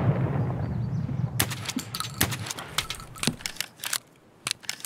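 Video game gunfire erupts partway through: rapid, sharp bursts of shots close by, irregular in rhythm, following a low rumbling ambience and then trailing off with a few last cracks.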